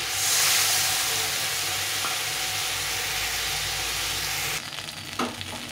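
Fish and potato chorchori frying in a pan, a loud continuous sizzle and hiss that drops suddenly near the end, followed by a brief clatter.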